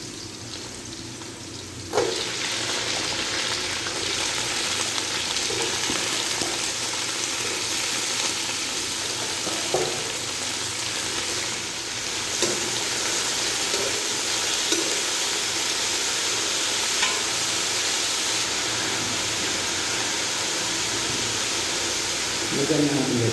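Bitter gourd (ampalaya) is sautéed with onion in a pan, giving a steady close sizzle with occasional stirring clicks and a louder burst as it goes in.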